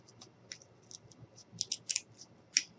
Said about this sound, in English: what we're going to do is we're going to take our scissors